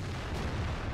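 A tank cannon fires in World of Tanks during KV-1 and IS gameplay, heard as one deep, heavy boom rolling out over a low rumbling battlefield.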